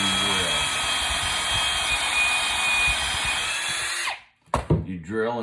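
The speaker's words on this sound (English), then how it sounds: "You drill until this little thing stops it." A power drill with a bit drives through a pocket hole jig into wood, a loud steady whine for about four seconds before stopping abruptly, followed by brief talk.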